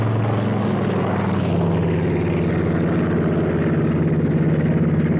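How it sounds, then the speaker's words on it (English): A 1943-era propeller tow plane taking off for gunnery training, its engine a loud, steady droning roar with a low throbbing rumble that holds constant throughout, no voices. "The tow plane was off first."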